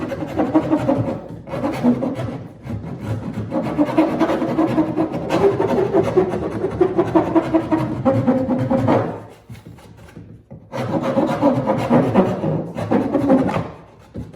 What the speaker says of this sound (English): It's a grinder basically that I use here.